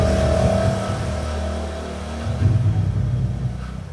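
A motorbike passing by near a house, its engine a low, steady rumbling drone that swells slightly louder toward the end, with no talking over it.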